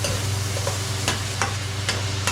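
Bopis, a chopped pork dish with carrots, sizzles and fries in a pan, a continuous close crackle broken by several sharp scraping stirs.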